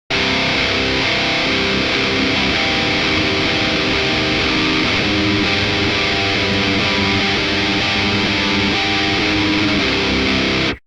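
A dense, distorted electric guitar riff for a melodic metal song plays continuously and loudly, chugging steady chords with no voices.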